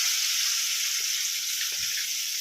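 Spice masala for matki usal sizzles in hot oil, a steady, bright frying hiss that runs evenly throughout with a few faint stirring knocks.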